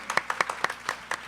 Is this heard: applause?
yes